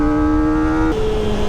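Kawasaki ZX25R four-cylinder motorcycle engine and exhaust, a close, loud, steady high-pitched whine with a smooth buzzing tone that briefly shifts pitch as revs change.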